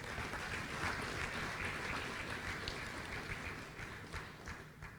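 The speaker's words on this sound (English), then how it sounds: "Another round of applause for him, please." Sustained round of applause from an audience at a birthday tribute, an even, dense clapping wash heard at moderate distance throughout, tapering slightly at the end.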